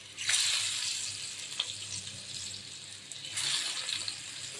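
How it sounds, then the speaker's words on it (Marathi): Cabbage vadi slices shallow frying in hot oil, a steady hissing sizzle with two brighter surges of crackle as pieces are added, close and without talk. "तर ह्या प्रकारे मी सगळ्या वड्याच्या कापलेल्या आहेत त्या आपण तेलामध्ये सोडून घ्यायच्या आहेत."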